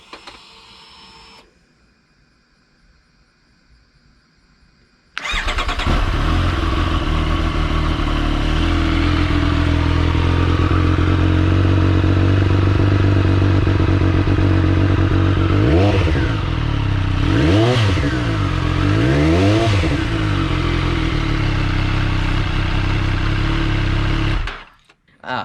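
A sport bike engine fires up after a few seconds of quiet and settles into a loud, steady idle, then is blipped through three rising-and-falling revs before shutting off, the exhaust note close and dominant throughout.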